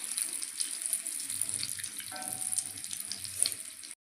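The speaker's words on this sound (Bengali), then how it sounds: "তো সবগুলো আমি এইভাবে ভেজে নেব।" Green pea kachori deep frying in a pan of oil, a steady high bubbling hiss throughout with faint clinks of utensils, fairly quiet and with no talk.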